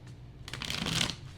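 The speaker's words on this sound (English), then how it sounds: "Hearing 3 shuffles for group 2" A Time Travelers card deck is shuffled by hand, giving a brief papery riffle that swells and fades within about a second, close and fairly quiet, with no talking.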